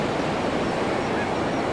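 Surf rolls steadily onto the wide, dune-backed beach at Morro Bay, a loud, continuous broadband wash with no break across the moment and no one speaking.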